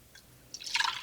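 Vinegar for bread and butter pickle relish is poured into a measuring cup, a brief soft trickle that quickly swells into a brighter splashing stream lasting under a second.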